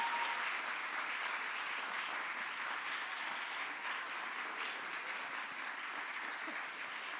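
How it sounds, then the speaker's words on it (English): At a TEDx event, an audience gives the day's hosts another round of applause: a steady, even wash of clapping from a large crowd that holds across the whole stretch at moderate volume. "Can we all give Hope and Samil another round of applause?"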